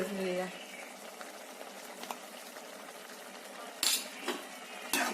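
Curry simmering in a pot with a low bubbling hiss throughout, brief utensil clinks against the pot near the start and two sharper clatters toward the end.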